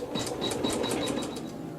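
A sewing machine runs quilting stitches with the bobbin thread drawn up, a quick even run of mechanical clicks over a motor hum, close and moderately quiet, with no talking.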